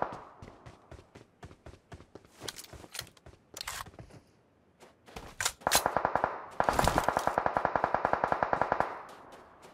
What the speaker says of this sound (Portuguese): bala tá estalando